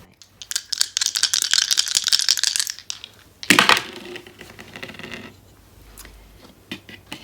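Dice rattle and tumble across a surface for a reading of astrology dice, a busy clatter for about three seconds, then a sharper burst of rolling and settling clicks, fairly close with no talk.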